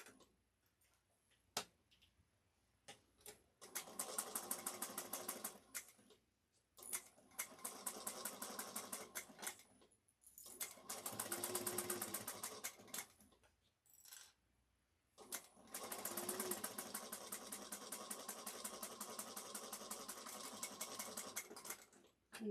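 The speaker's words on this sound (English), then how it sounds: "we're going to top stitch this" A sewing machine top stitches a shoulder bag, running in several loud bursts of rapid mechanical whirring separated by pauses, with sharp clicks and taps between runs and no talking.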